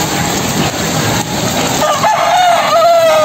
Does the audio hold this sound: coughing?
no